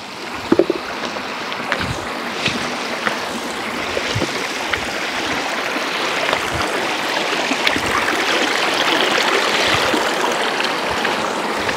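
Water rushing through a forest stream channel that fills after heavy rains, a steady broadband wash holding at even loudness throughout with no voices over it.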